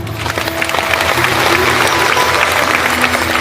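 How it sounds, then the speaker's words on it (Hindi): An audience at a spiritual lecture claps together in sustained, dense applause that swells and holds steady, loud and close throughout. "मानने के लिए ताली बजाओ।"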